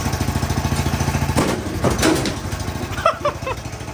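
Honda GX390 small engine on a UTV, run with the choke on, chugs at a rough idle, then surges briefly as the throttle opens before settling back to an uneven idle, close by.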